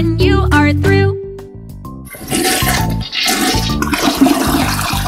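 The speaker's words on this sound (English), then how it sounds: "It's time to flush." A household toilet flushes with a loud rush of swirling water that starts about two seconds in and keeps going to the end, following a short tuneful musical lead-in with no talk.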